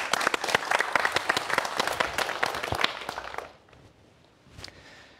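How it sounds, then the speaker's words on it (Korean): An audience claps briskly to welcome a speaker at a science lecture on artificial muscles and robotics, dense crisp claps that stop abruptly partway through, leaving quiet room tone and a single faint sound. "박수 부탁드립니다."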